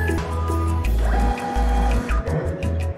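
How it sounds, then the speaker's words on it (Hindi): A TSC thermal label printer runs off MRP price labels, its motor whirring in short, loud bursts with brief stops and faint clicks between them. "तो मैं इससे अब प्रिंट करके दिखाऊंगा"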